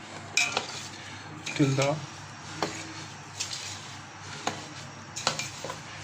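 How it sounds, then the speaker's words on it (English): Mango jam with sugar cooks in a pan over a medium flame, with a spoon clinking and scraping against the metal pan in irregular close taps, while a person speaks over it. "now we cook it on a medium flame"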